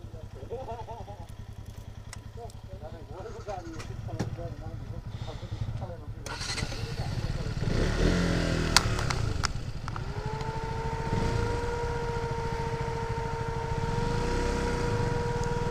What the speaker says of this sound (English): After a long time, I'm riding KTM RC.